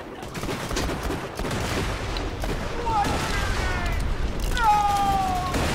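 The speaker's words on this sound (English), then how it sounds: "Is that you throwing grenades?" Grenade explosions and gunfire in Borderlands 2 form a dense, continuous battle din with sharp bursts and whistling, sliding tones, while a voice talks over the noise.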